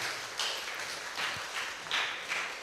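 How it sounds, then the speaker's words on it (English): An audience at the official launch of the Discover La Digue Enrichment Organization gives a round of applause: faint, somewhat distant clapping in several soft surges, with no talk over it. "Give them a round of applause one more time."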